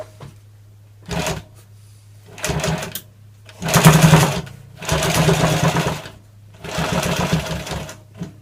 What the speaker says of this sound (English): And then we'll top stitch it down.